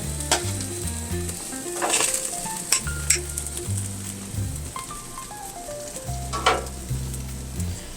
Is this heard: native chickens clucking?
no